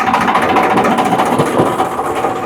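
A brand-new tractor engine idles close by at a tractor market, a steady, loud rumble with a fast rhythmic chug and no voices over it.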